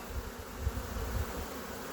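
A honeybee swarm hums during hiving, a steady, fairly faint low buzz of many bees close by, with no talking.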